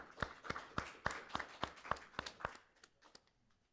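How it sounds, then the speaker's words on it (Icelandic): Audience at a sports-and-inclusion conference gives a round of clapping, sharp regular claps about three per second from a small crowd, fading out after about two and a half seconds. "Gott mál, við gefum Birtu gott klapp."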